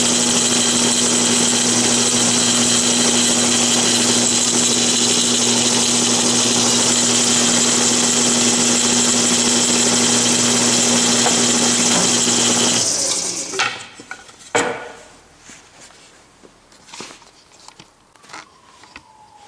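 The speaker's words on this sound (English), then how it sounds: "I'm going to drill right smack dab in the middle of those 2 marks" An electric drill whirs loudly and steadily while boring center holes in small wooden pieces for a clothes drying rack, then winds down into scattered knocks and handling clatter.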